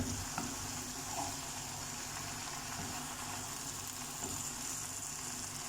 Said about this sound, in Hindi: ये देखिए इसका इस तरह से भुनाई करना है अभी पहले।